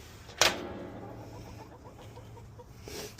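A broody hen in a backyard coop gives one short, sharp cluck near the start, followed by faint, low murmuring clucks against a quiet evening background.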